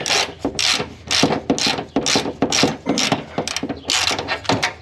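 A wrench ratchets a nut off a shock absorber mount on a Range Rover Classic, making loud, close bursts of rapid clicking in repeated strokes with short pauses between them and no talk.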